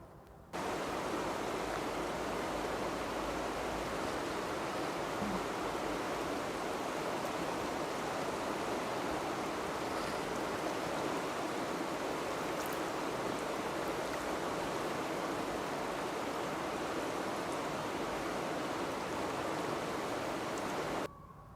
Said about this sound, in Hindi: हमने देखा कि ये कलकल की पानी की आवाज़ें